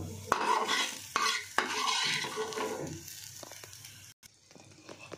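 Onion, garlic and finely chopped eggplant frying in a pan, sizzling under clattering stirring knocks against the pan, louder at first and then quieter and sparser, with no one speaking.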